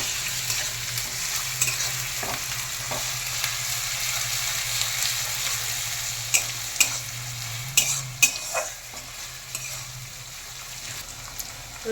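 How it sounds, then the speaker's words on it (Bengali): Garlic sizzles in hot oil with fried onions while a spoon stirs and scrapes the pan, a constant crackling fry with a few sharper clinks near the end. "রসুনটা দিয়ে আমি একটু ভেজে নেব।"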